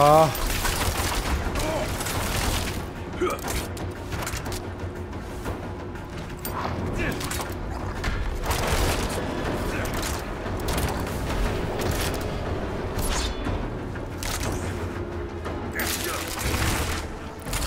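Rapid bursts of enemy gunfire and impacts come from all sides in a Diablo 4 battle, dense and continuous under frequent talk from a player.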